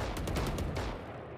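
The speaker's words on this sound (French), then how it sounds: "Il a tiré un milliard de balles sur l'autre" Rapid bursts of gunfire in Valorant, a tight string of loud sharp shots in quick succession that trail off into a short fading tail near the end.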